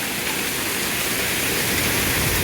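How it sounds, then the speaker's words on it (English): Half-golf-ball-size hail pounds down in a heavy storm that strips leaves from trees, a dense, continuous roar of ice hitting surfaces, steady and loud throughout with no voices. "We got about half golf ball size hail coming down, just getting pounded."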